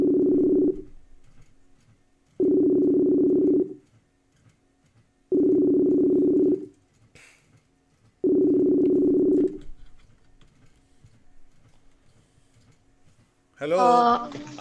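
Telephone ringback tones during a redialed call to Montalban, Rizal: four long steady beeps evenly spaced with silent gaps, then a person speaks at the end.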